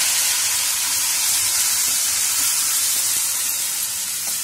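Garlic paste hitting a hot pan of whole-onion sabzi, giving a steady, loud broadband sizzle and hiss that runs without a break.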